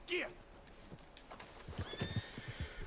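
A horse whinnies sharply at the start, followed by soft clip-clopping hooves and faint rustling in the background, in the video game Red Dead Redemption 2.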